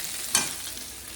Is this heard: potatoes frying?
yes